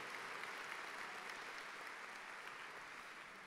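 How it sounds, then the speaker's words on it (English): An audience claps steadily for gold sponsors at a VIPS 2018 event, a dense, even wash of applause held at a moderate distance with no talk over it. "Let's applaud our gold sponsors and thank them for their support."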